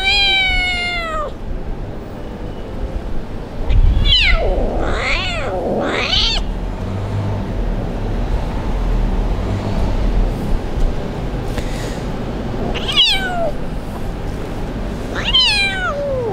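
An abandoned kitten cries on the street in repeated loud, close meows, with a burst of several calls early on and more later, over steady traffic and road noise.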